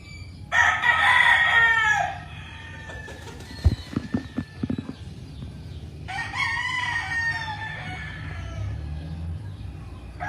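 Young pullets and roosters on a farm in the Philippines: roosters crow loudly nearby, two long calls separated by a quiet spell with a few sharp clucks and knocks in the middle.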